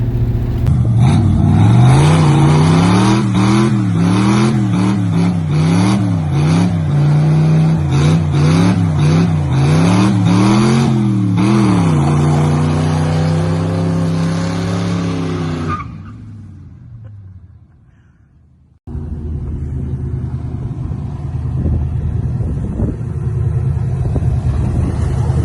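An OBS-generation Chevy drift truck out on its first drive, engine loud and revving with wavering pitch and tire squeal, then the engine note drops and cuts out briefly before a steady idle returns.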